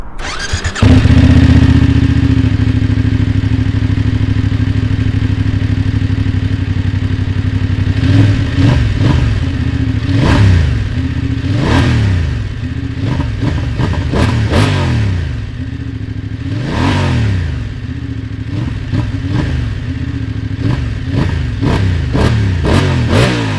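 A 2024 Voge 900 DSX motorcycle engine idles loudly and steadily up close, then is blipped several times, each rev rising and falling in quick sweeping surges over the throbbing idle, with no talking.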